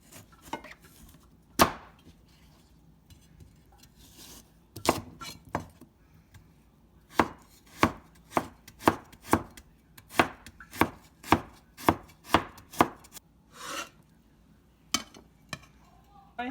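A knife chops a peeled, rinsed carrot on a board, producing crisp, sharp knocks: scattered at first, then a quick, steady run of evenly spaced cuts, close and clear with no talking.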